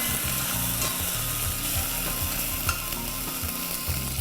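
Ginger-garlic paste fries with golden onions in a pan, giving a loud, continuous sizzle broken by rhythmic clicking and scraping as the mixture is stirred up close.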